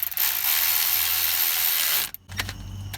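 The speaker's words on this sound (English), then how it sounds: "That's ratchet." A ratchet drives in a Torx screw on a car's neutral safety switch, a fast, loud continuous clicking burst lasting about two seconds, then a brief clatter close by.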